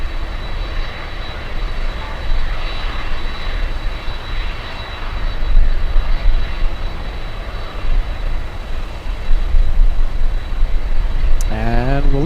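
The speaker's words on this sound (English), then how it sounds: "Delta's 1386 flying in from Atlanta, Georgia." A Delta airliner on flight 1386 arrives at Miami airport from Atlanta, a loud continuous engine roar with a high whine, pulsing slightly, with traffic noise nearby and a brief chirping sound at the end.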